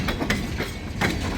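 A heavy freight train rolls past on rain-damp tracks, its wheels and cars making a continuous rumbling clatter close by, with no talking.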